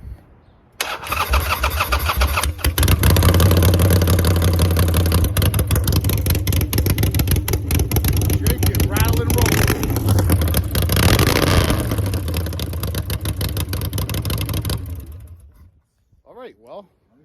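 A 2022 Harley-Davidson Street Bob or Low Rider ST V-twin starts and runs loud and close for about fifteen seconds, with deep revs swelling and falling before it cuts off, and people talking over it.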